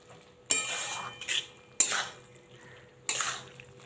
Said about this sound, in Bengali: এবার আমি এই তরকারির মধ্যে একটু চিনি দেব, আর একটু ধনেপাতা কুচি দেব। খুব ভালো করে মিশিয়ে নেব।